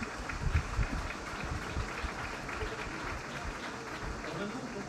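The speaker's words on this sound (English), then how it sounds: "I think you can give us a round of applause for that." Audience applause at a conference talk on sustainable growth, a dense steady clatter of clapping filling the room for the whole stretch, loud and continuous with murmured voices mixed in.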